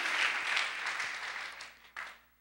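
A church congregation applauds at a worship service, a steady wash of clapping from many hands that gradually thins, then briefly swells again before fading out.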